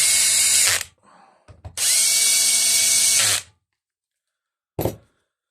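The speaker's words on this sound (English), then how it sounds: "Can I reach my drill and hold it?" Handheld power drill used while servicing a STIHL hedge trimmer, with two loud bursts of steady whirring, the first about a second and the second nearly two, then a short final blip, separated by quiet gaps.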